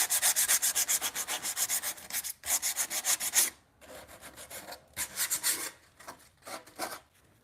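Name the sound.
sanding wood on a bunk bed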